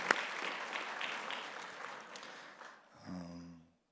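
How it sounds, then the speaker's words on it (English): An audience claps at a spiritual publication launch event, with a fairly quiet, dense patter of applause that fades away toward the end as a voice begins. "give a big round of applause"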